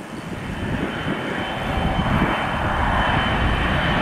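A Delta Boeing 757 jet takes off from Miami airport right overhead, bound for Atlanta. A loud, broad engine roar swells and holds steady, close and alone.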